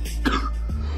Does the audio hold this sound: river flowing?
no